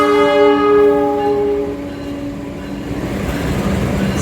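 The Argo Dwipangga passenger train arrives at the station with a loud, sustained horn blast that fades into the rumble of rolling wheels and wagons.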